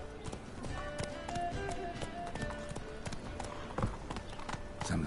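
Hooves pounding at a gallop in The Witcher 3, a quick steady clip-clop rhythm lasting the whole stretch over a soft music bed.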